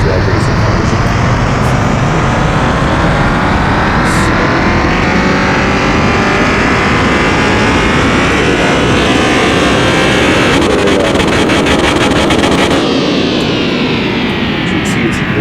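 A tuned Dodge Viper V10 in Car Mechanic Simulator 21 roars through a test run, its loud engine note rising continuously through the revs with a brief rattling burst late on, the engine loud and constant throughout.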